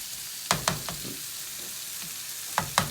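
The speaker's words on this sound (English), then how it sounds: "So the rice has been frying away for about 4 or 5 minutes now." Rice fries in a pan for paella, giving a constant sizzle broken by several sharp scraping strokes as it is stirred, close and clear with no talk.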